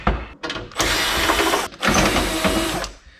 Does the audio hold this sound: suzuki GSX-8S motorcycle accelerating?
no